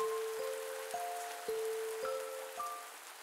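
Rain falling in the farming video game Pumpkin Days: a steady, soft hiss of downpour with clear chime-like game tones ringing over it at intervals. No one speaks.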